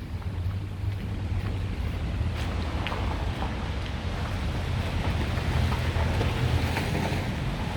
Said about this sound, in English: it started to rain more and more